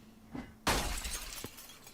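Window glass smashed in the video game Project Zomboid: one loud, sudden shattering crash followed by a short trail of tinkling, scattering shards, heard alone without talk.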